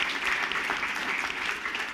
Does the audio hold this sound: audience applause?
yes